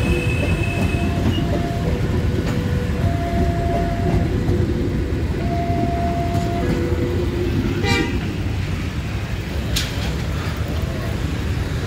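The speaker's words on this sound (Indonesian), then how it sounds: "kereta baru saja mau berangkat" A train departing near Malioboro street in Yogyakarta, with a steady close rumble of rolling wagons, several tonal horn toots spread through it and a brief squeal, all at constant loud level outdoors.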